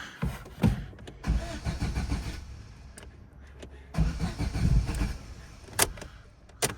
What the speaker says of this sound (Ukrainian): Що ж вона навіть стартувати не хоче.